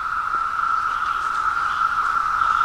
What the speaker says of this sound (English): That's the males, that droning sound you hear.